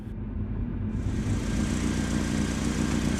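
A car engine idling as the car comes to a stop, a steady close low rumble with no talking.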